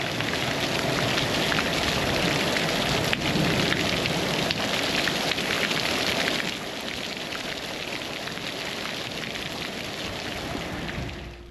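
Steady heavy rain pours down over a house building site, a dense continuous hiss that stays loud throughout and eases slightly partway through, with no voices.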